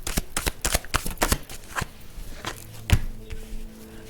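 Tarot cards shuffled and pulled from the deck, a quick run of crisp riffling flicks up close, then a few slower single card slaps and slides.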